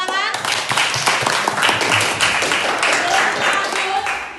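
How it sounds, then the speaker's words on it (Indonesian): Audience clapping hands in a classroom or lecture setting, a dense, steady burst of many claps lasting several seconds, fairly close and even in loudness, with faint voices mixed in. "Ya, berikan tepuk tangan."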